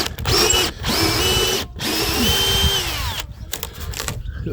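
A power drill or driver backs screws out of an old, rotten softwood rubbing strake on a James Silver motor sailer. It whines in loud, steady bursts close by, with brief pauses between runs.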